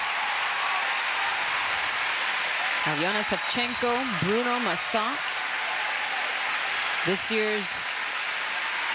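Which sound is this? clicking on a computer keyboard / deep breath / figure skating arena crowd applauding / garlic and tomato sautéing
figure skating arena crowd applauding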